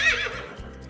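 A single brief braying call, loud and close and fading within a second, sounds as a donkey effect in a children's read-aloud picnic story, with no speech.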